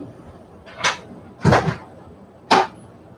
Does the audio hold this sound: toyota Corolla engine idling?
no